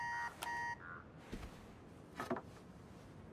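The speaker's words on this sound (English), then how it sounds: "His alarm's popping off." An alarm in the Spider-Man 2 game on PS5 sounds in repeated short electronic beeping bursts at the start, followed by quieter game ambience and a few soft thuds and rustles.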